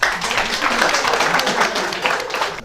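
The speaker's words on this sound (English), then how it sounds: "Give them a big round of applause" A school quiz audience in Sikkim claps for the contestants, a steady, dense patter of many hands filling the hall at an even level for a few seconds.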